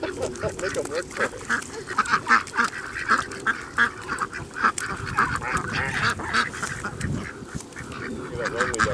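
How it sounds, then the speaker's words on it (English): A flock of ducks on a farm quack and squabble busily while being fed, a dense, continuous chorus of close, loud calls with some honk-like notes, no speech. "Look at that lonely duck over there being patient."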